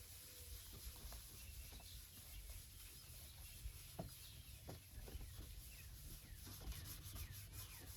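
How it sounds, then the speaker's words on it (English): Wet sanding a hazed headlight with 3000 grit sandpaper, a faint, steady rubbing and scuffing with light repeated strokes, close but quiet, with no talk. "we're going to take our 3000 grit sandpaper, just kind of wring that out. And same things, kind of go over the whole headlight."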